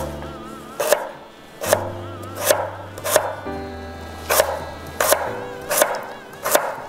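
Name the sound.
chopping ingredients into bean-sized pieces with a knife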